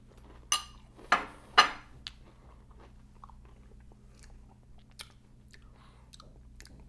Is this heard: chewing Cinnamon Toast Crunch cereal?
yes